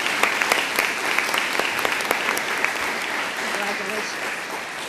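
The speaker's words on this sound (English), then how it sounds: "Please join me in a round of applause for our finance department." A room at a board of education meeting fills with steady applause for the finance department, many hands clapping densely at close range with a few faint voices mixed in.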